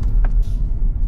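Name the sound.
car driving through country lanes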